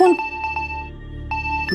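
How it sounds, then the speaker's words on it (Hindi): A bright electronic phone alarm tone repeats in short bursts, with a low background hum under it. "ये तो अलार्म है।"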